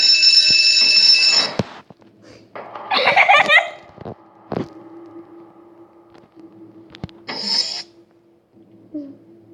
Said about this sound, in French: C'est la deuxième alarme en fait.